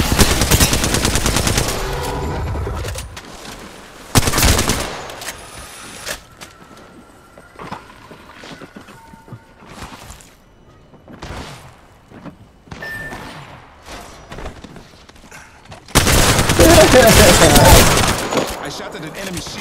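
Bursts of loud automatic gunfire in a shooter video game open and close the stretch, with a short volley in between and quieter thuds and game sounds during the gap.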